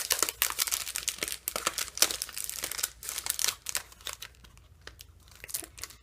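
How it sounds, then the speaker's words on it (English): Adhesive backing peeled off a small gold faceted gem for card making, a close, crisp crinkling and tearing of paper in quick irregular bursts, fading slightly toward the end. "We've got the little adhesive in the back. You just pop it off and stick it down just like that."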